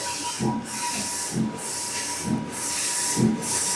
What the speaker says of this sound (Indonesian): Oke, ini kita print logo.